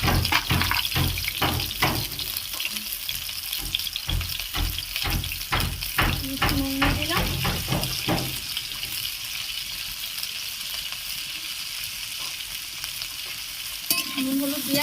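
Pointed gourd (potol) pieces seasoned with salt and turmeric fry loudly in hot oil, a dense sizzle broken by repeated scraping and stirring strokes during the first half, then a steadier crackling fry.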